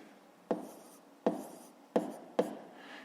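A pen writes numbers for a maths exercise on paper, making four short, close scratching strokes spaced unevenly apart over a quiet background.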